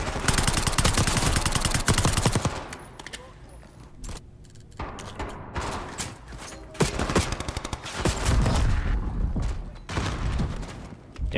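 Enemy gunfire in the Black Ops 6 campaign video game, loud bursts and rapid shots in dense clusters through a busy mix of game sounds, with someone talking over parts of it.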